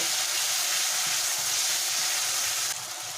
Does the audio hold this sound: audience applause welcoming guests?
no